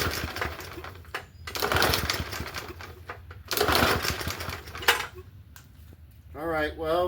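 A Bolens 20-inch push mower engine runs steadily with a rough, buzzing drone that swells and dips, interrupted by clanks and handling noises, with a person talking briefly near the end.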